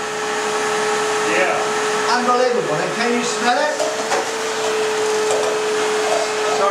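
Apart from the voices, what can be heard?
vacuum cleaner switched on and running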